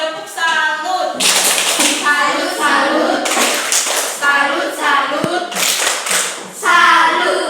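Pupils in a micro-teaching classroom lesson doing a patterned cheer clap, loud close bursts of rhythmic hand claps in several rounds, mixed with children's voices chanting along.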